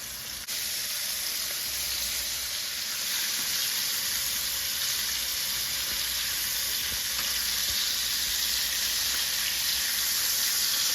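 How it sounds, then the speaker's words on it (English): Panko-crusted sea bass pan-fries in hot oil, giving a steady, dense, close sizzle that holds evenly throughout with no voices. "How long do we fry these up for? 3 minutes aside."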